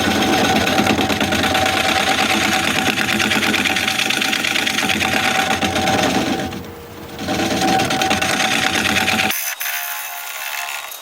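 Scraper cutting a wooden bowl on a wood lathe, a steady loud buzzing chatter of tool against spinning wood, briefly dipping midway and then cutting off sharply near the end, leaving quieter room noise.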